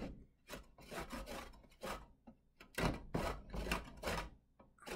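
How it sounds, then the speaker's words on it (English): A small lime being grated for zest, a steady run of rough, scratchy rasping strokes in uneven bursts, close and fairly loud with no talking. "as I'm grating the lime"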